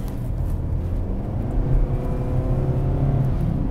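A 2022 Kia Sportage on a test drive: a steady low engine and road drone from inside the cabin, rising slightly midway as it accelerates, with no talking.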